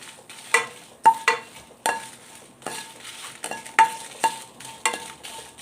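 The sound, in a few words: dry red chilies being heated in a pan for chili flakes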